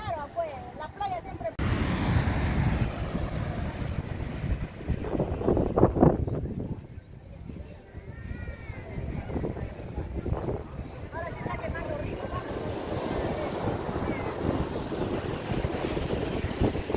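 Wind buffets the microphone on a Pacific Ocean shore in Peru, with surf rumbling close and continuously for the whole stretch, and someone talks over it throughout.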